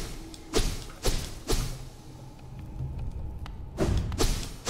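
Soft, dull thuds from sonic boom effects in the video game Hollow Knight land in a loose series of about six hits, with quiet game ambience between them and no one talking.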